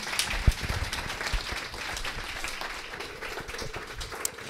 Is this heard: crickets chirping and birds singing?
no